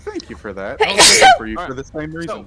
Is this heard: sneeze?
yes